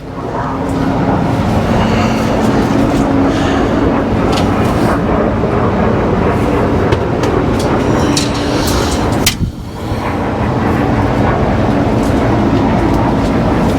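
A rebuilt 1939 Ford engine in a classic highboy, still breaking in and leaking coolant, runs loud and steady at close range with an odd noise, briefly dipping before resuming. Voices are faintly present.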